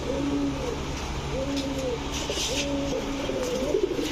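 Orange Chila pigeons coo in a repeated soft, low rolling pattern, several calls in a row close by over a steady background hum.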